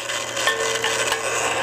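A valve seat cutter turned on a drill arbor grinds against a cylinder head valve seat, giving a steady close-up metallic rasping and scraping with slight rhythmic surges.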